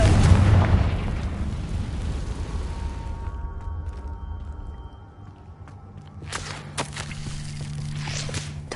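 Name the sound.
Confringo blasting spell exploding in the Hogwarts Legacy video game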